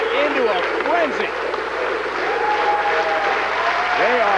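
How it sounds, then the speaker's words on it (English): A large bowling crowd in Tacoma roars and applauds a perfect 300 game by Norm Duke at the 2003 PBA Geico Earl Anthony Classic, with loud sustained cheering, whistles and clapping while a commentator talks over it. "Sends this huge crowd in Tacoma into a frenzy."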